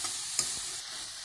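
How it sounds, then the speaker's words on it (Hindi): Radish and radish-leaf sabzi being stirred in a pan: a soft, steady sizzle with one brief scrape of the spoon near the start, close and moderately quiet, no voices. "मिक्स कर देंगे सबको, सब्जी को अच्छी तरह से।"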